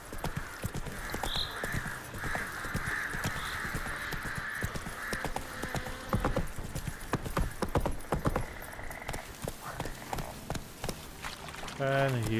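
Roach, a horse in The Witcher 3 video game, gallops with steady clip-clop hoofbeats over continuous game music and ambience, with a voice talking over it.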